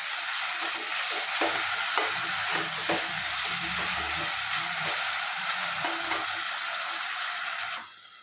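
Onions and tomatoes with salt, for Chennai-style chicken biryani, are stirred in a hot pan, giving a loud continuous sizzle with scraping strokes of the spoon before the sound drops away at the end.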